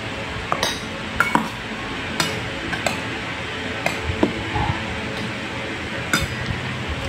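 Filipino home meal: cutlery and dishes clink and tap in scattered sharp bursts as people start eating, over a steady low room hum.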